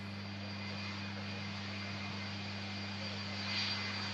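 Rolls-Royce RB211 jet engines on a 34-year-old airliner just arrived from Barcelona give a faint, steady hum with distinct low drones and a thin high whine, rising slightly near the end.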